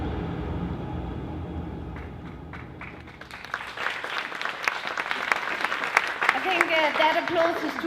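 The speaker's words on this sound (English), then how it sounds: "That applause is to Mother Earth" Talk with background noise at a lecture gives way to a swell of applause from a crowd, building and continuing loudly with a voice mixed in.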